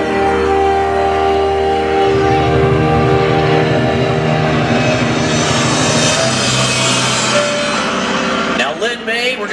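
Douglas C-47 Skytrain piston-engine aircraft at the 2016 Rhode Island Air National Guard open house airshow, a loud continuous engine drone with an announcer talking over it, fading near the end.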